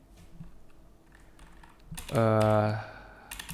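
Light keystrokes tap on a computer keyboard while code is typed during a Flutter programming session, faint and scattered, interrupted midway by a brief loud tonal burst before more soft clicks return.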